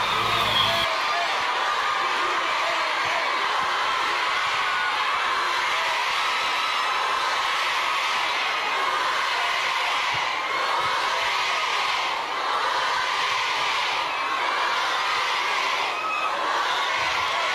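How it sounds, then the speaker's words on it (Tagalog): A large crowd of Filipino overseas workers in Hong Kong shouts and cheers at a public gathering with the vice president, a dense, sustained roar of voices with whoops rising above it, continuous and fairly loud. "Grabe ang sigawan ng taong bayan, guys, ha."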